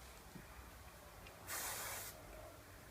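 Hairspray is sprayed onto hair in a single burst of about half a second, a close hissing spray over a quiet room background, with no talking.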